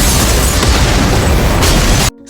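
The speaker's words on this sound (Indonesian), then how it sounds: "tiba-tiba ledakan pun terjadi yang membuat Saon ikut pingsan" A loud explosion in a Korean drama scene roars as a dense, sustained blast of rumbling noise for about two seconds, then cuts off abruptly to near silence.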